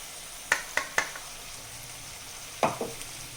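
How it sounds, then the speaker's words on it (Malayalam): A homemade lemon pickle is stirred with ground spice powders, giving a few sharp spoon clacks against the vessel in two short bursts over a faint, quiet background, no voices. "നല്ലതുപോലെ ഇളക്കി മിക്സ് ചെയ്ത് യോജിപ്പിച്ചെടുക്കാം"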